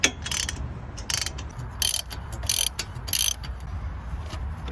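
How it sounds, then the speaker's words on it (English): A ratchet tightens the hub bearing bolts on a Jeep Wrangler JK, sounding in several quick, loud bursts of clicking separated by short pauses, close up and with no talking. "Now I'm tightening the hub bearing bolts back, so I'm gonna torque them down to 75 foot-pounds."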